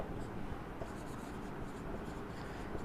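A pen scratches steadily across paper during a class 10 maths lesson on trigonometry, faint and continuous against a low room hum.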